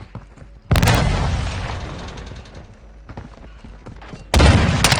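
Loud booming gunshots in a Call of Duty match, with one heavy blast followed by a decaying rumble, a few quieter shots, then another sharp, powerful burst close by.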